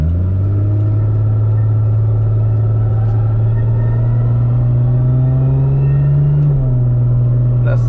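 A 1000+HP MKIV Supra pulls hard in first gear, its loud, close engine drone rising steadily in pitch, then dropping abruptly near the end as the gear changes.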